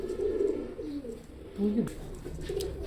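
A pair of Oman Teddy pigeons coo softly in low, rolling phrases, close by, with a faint click or two between calls.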